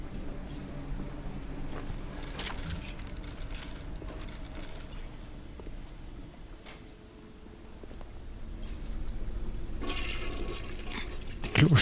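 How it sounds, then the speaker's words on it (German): A toilet flush inside the video game Bioshock, a steady rushing gurgle of water that runs for several seconds and swells again near the end, moderately loud against game ambience. "Die Klospülung."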